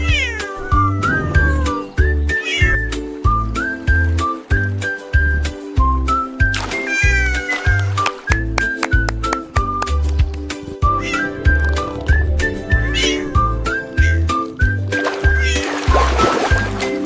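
Repeated cat meows, some stretched into caterwauls, sung over a bouncy children's rhyme song with steady bass and melody; the meows come one after another throughout, close and clear within the music.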